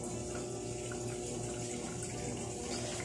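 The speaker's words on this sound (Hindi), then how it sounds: "तो देखिए अब सर्फ के साथ पानी आ रहा है" Water mixed with detergent pours into a Samsung WA60H4200SW top-load washing machine as a loud, steady, close rushing and splashing that never lets up.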